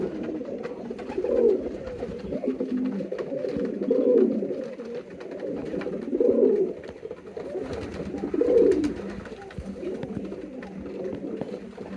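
Pigeons, including a king pigeon, coo in a loft in repeated low, throaty bursts every couple of seconds, close and fairly loud, with steady soft rustling and background calls between them.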